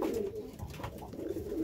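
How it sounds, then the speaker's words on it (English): Pigeons cooing inside a loft among nest boxes, soft low rolling coos repeating in a steady murmur, close by and with no voices. "all these birds in here seem to have all picked some nest boxes here, finally"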